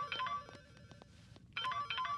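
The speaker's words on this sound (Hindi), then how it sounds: "ये अभी क्यों फोन कर रही है?" A mobile phone rings with an incoming call, two loud bursts of a bright electronic ringtone melody separated by a quieter gap, close by with no talking.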